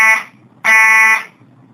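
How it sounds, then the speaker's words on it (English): A school fire alarm rings in two loud, harsh electronic bursts, the first short and the second about half a second long, with a brief gap between them. "Let's wait for the fire alarms to shut off."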